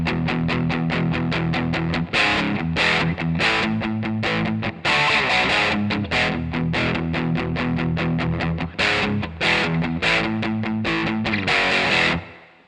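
Distorted electric guitar chugs through the verse in loud, rhythmic power chords with the fifth on the bottom, repeated riffs with brief gaps and no voices.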